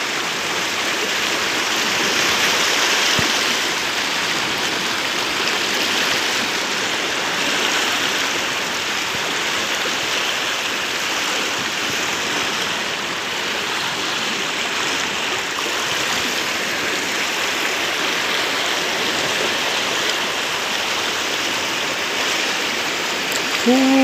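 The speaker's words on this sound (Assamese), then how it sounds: "নদীখনৰ গতি বহুতেই স্পীড।" A fast-flowing river in Arunachal Pradesh rushes in a continuous broad hiss and gurgle, steady and fairly loud throughout with no other sounds standing out.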